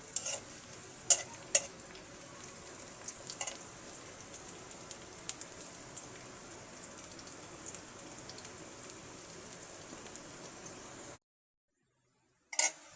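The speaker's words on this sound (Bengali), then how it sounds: "পেঁয়াজ এবং রসুন কুচিগুলো যখন লাল লাল করে ভাজা হবে" Chopped onion, garlic and green chillies fry in a pan, a soft continuous sizzle with sharp clicks of stirring, then the sound drops out abruptly before a brief return at the end.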